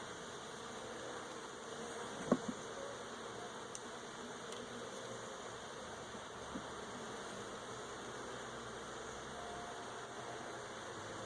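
Honeybees buzzing during a hive inspection, a soft, steady insect drone that fills the whole stretch, with a couple of brief knocks early on and no talking.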